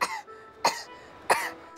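A child coughs three times in quick succession, close and clear, each cough short and breathy with brief pauses between, and no other voices.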